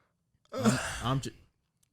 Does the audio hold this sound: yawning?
yes